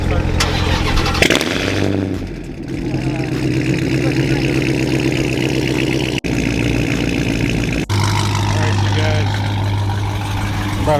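Car engines rumble and idle loudly nearby as vehicles pull up, a steady mechanical drone that shifts in pitch with one engine revving, while people talk over it.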